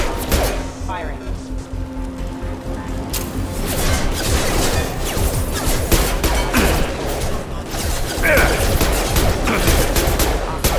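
Gunfire from security mechs and Commander Shepard's squad in the video game Mass Effect 2: dense, continuous bursts of rapid shots and booms over roughly eleven seconds, loud and close, with a voice speaking over the fight.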